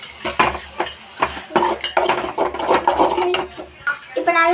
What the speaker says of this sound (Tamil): இப்போ கடாயிலேருந்து கிண்ணத்தில் மாற்றி டேஸ்ட் பண்ணலாம்.